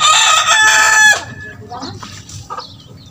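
A rooster crows loudly up close for about a second, then chickens cluck softly in short scattered bursts at a small chicken farm.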